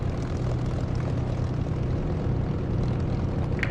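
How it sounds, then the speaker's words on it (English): A Spitfire propeller aircraft engine drones steadily and loudly in the DCS flight simulator game, a constant low throbbing roar with no change in pitch; no speech. "I think this Spitfire sound is so good"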